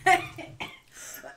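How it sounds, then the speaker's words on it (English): A single person coughs up close in a short, sharp burst, followed by a quieter second cough and a soft trailing breath or throat sound. "I keep, like, coughing as I talk"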